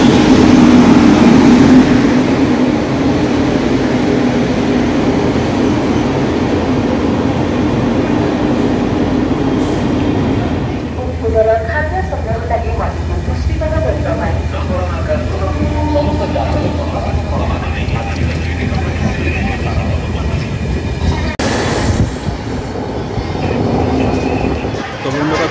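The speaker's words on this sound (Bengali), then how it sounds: "আমাদের ট্রেন ঢুকছে বালেশ্বর স্টেশনে 12074" The 12074 Bhubaneswar–Howrah Jan Shatabdi Express pulls into Balasore station towards platform 3, a continuous loud rumble of rolling carriages with faint clatter, while people talk nearby.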